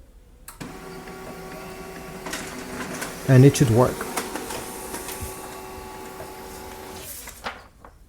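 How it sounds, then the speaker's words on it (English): An HP LaserJet MFP M234sdw printer runs nearby, giving a steady mechanical whir with a rhythmic chattering burst partway through as a page feeds. A person speaks briefly over it. "This printer is able to print very quickly."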